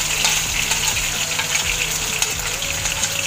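Ginger and garlic frying in a pan for macaroni pasta, giving a steady close sizzle and hiss with faint scraping clinks, no talking.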